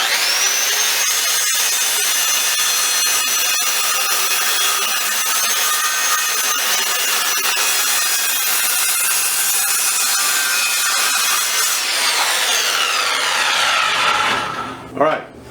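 A saw blade runs steadily along the edge of a wooden sign board clamped between guide blocks, a loud continuous cutting whine for about fourteen seconds that winds down at the end, with no talk over it.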